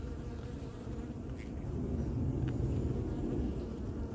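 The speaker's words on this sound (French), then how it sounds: "Il s'est enfui, c'était un petit frelon." A small hornet buzzes near an apiary hive, a low droning hum that swells louder partway through as it takes off and flies away, with faint clicks over the buzz.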